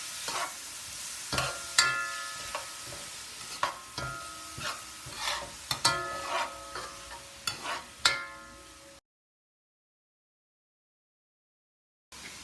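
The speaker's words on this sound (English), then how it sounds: "give that a nice stir. Let those veggies start frying up." Vegetables for fried rice sizzle in a hot pan while a spoon stirs and scrapes them in repeated strokes, close and fairly quiet, with a sudden silence near the end.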